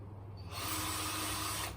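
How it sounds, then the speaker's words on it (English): Electric drill boring through a hose during woodwork on a koi pond filter house, a single steady whine that starts abruptly and holds for about a second, close and alone. "drill through there"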